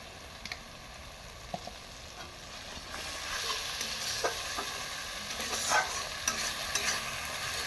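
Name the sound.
spice masala frying in oil in a pan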